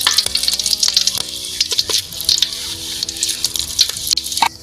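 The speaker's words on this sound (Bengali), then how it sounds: "গরম তেলের মধ্যে এই দুটো শুকনো লঙ্কা, তেলে দুটো শুকনো লঙ্কা, তেজপাতা দুটো, দারুচিনি এলাচ দুটো আর" Dried red chillies, bay leaves, cinnamon, cardamom and cumin seeds sizzle and crackle steadily in hot oil in a pan, a close, continuous frying hiss with scattered pops and spatters.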